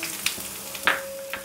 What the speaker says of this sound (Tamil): இந்த மாதிரி கடுகு நல்லா வெடிக்கும், ஜீரகமும் பொரிஞ்சிருச்சு.